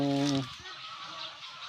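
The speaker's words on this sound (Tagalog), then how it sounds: "Nakakatawa naman pakinggan yung mga huli ng ibon." A loud, nasal honking call rings out at the start, then fades into quieter chattering and low background rustle.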